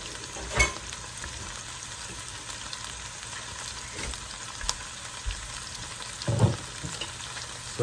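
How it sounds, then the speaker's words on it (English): Onions sizzle softly in grapeseed oil in a pot for French onion soup while a long wooden spatula stirs them, a low steady fry broken by a few scraping knocks, no voices present. "I use a long wooden spatula, for lack of a better word, and you just want to gently move them around, just to get them all coated in that grapeseed oil"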